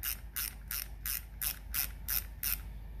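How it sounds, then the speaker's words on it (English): Close, crisp ratchet socket wrench clicking in eight even bursts as a bolt on a Delco Remy distributor is turned, quiet and alone with a low background hum. "I do have a little socket."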